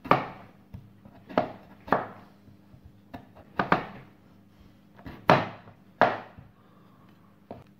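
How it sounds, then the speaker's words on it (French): Knife chopping through butternut squash on a cutting board, about a dozen sharp, separate knocks in an uneven rhythm, close and clear, with quiet pauses between cuts. "On va commencer par la pluche du butternut. On va couper une tranche."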